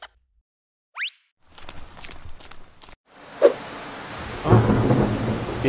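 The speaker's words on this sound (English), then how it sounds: "It's raining." Cartoon rain and thunder: a sharp whoosh, then scattered drops and a thunder crack, followed by steady rain swelling louder toward the end, with no voices.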